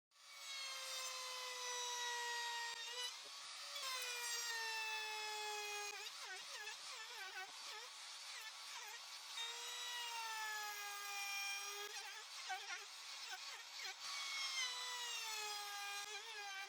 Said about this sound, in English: Using the router with the 28mm corner breaking bit,